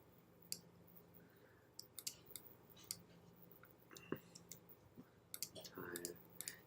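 Computer mouse clicking while editing an image, with scattered sharp single clicks and short quick clusters against a quiet background, partly under soft talk.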